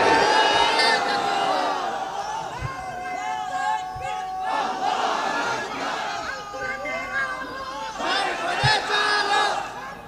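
A large crowd at a religious sermon gathering shouting takbir in unison, with loud, drawn-out massed voices swelling in repeated waves and echoing through the space, lasting throughout.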